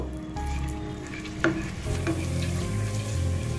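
Sugar is tipped into hot oil left from frying katla fish, and a steady close sizzle swells, with a brief clink of a utensil partway through and no one talking.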